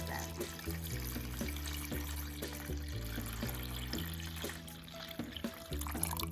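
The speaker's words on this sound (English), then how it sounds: "Now we're going to cover our 3 pounds of clams with water" Water runs from a tap into a pot holding three pounds of clams for chowder, a steady close splashing and trickling that carries on without talk.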